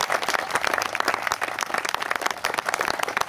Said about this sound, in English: we should give a big round of applause to both Miss Weeks and the Vice Mayor